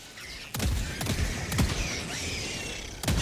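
Sentry turret in Helldivers 2 fires in short separate bursts of shots, spaced about half a second to a second apart, sounding moderately close with mechanical creaks in between and no talking.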